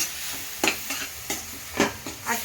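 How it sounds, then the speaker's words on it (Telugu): Fresh grated coconut being stirred and fried in a pan for poha upma, with soft sizzling under several distinct scraping stir strokes spaced about half a second apart, close and fairly quiet. "పచ్చి కొబ్బరి ఇదండి ఇది ఫ్రై అవుతుంది"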